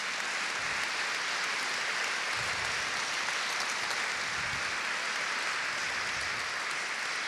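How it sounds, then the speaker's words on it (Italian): Audience applause in a conference hall for a debate moderator, a broad continuous wash of clapping from a large crowd, steady and fairly loud throughout with no voices on top. "vi chiedo per lui un grande applauso"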